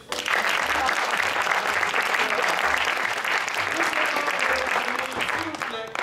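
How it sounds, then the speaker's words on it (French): Loud, sustained audience applause at an improv theatre festival in Toulouse, dense clapping throughout with rhythmic low thumps and a few voices mixed in. "Vous pouvez retourner dans votre tâche pour applaudir"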